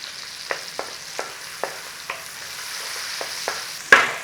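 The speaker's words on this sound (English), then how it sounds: "Now if you like mushy tomatoes, cook them as long as you like" Tomatoes frying in a pan for bacon and egg hand pies, a close, even sizzle punctuated by regular utensil taps and stirs, ending on a sharper, louder clack.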